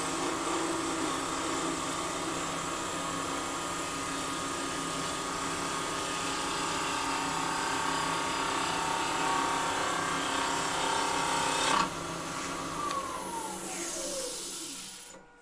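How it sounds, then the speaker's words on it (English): A spindle roughing gouge makes a planing cut on a wood lathe, giving a steady hissing whoosh of spinning wood under the tool that runs evenly, shifts near the end, then tapers off. "But me planing cut with a spindle roughing gouge."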